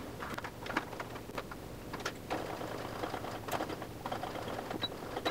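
Sewing machine stitching a fabric glasses case, a steady mechanical whir with quick repeated needle clicks running throughout at close range, no talk.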